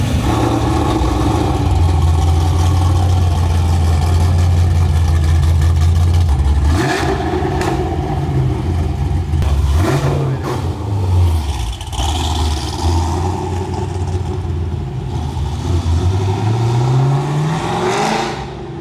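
LS-swapped BMW M3 GTR tribute build idling with a deep, steady rumble, then blipped into several loud revs that rise and fall back to idle, close by and alone.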